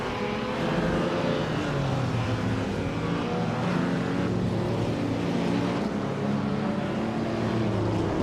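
Engines of classic racing cars, including a 1955 Maserati 300S and a 1957 Ferrari 250 Testarossa, drone steadily in a race, a continuous loud rumble with shifting tone and no talk.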